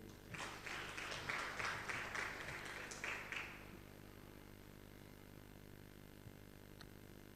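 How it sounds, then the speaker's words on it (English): A small audience at an EdTech fellowship kickoff in Tanzania claps for an ngoma drum performance, a brief, faint patter of hands lasting a few seconds before fading into quiet room hum. "Can we clap for the ngoma once again?"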